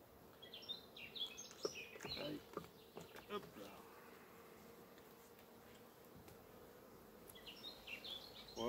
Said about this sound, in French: je pense qu'il y aura pas mal d'abeilles